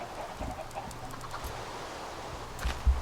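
Chickens cluck in a Minecraft chicken farm, small blocky birds giving scattered soft clucks under a steady game ambience, with a louder cluck or two near the end.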